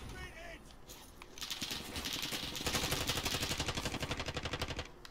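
Rapid automatic gunfire in the online shooter game Warzone, fired through a window: a dense, fast rhythmic burst that builds and holds loud and close for several seconds, with a voice talking briefly at the start.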